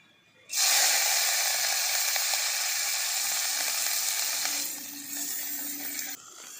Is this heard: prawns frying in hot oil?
yes